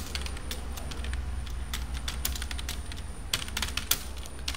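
Keys clatter on a computer keyboard while text is typed into MS Word, a steady run of close, crisp clicks with a few heavier strokes near the end, over a low background hum and with no voices.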